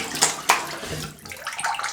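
Water runs from a tap close by, splashing unevenly with a couple of sharper spatters in a brief, steady flow.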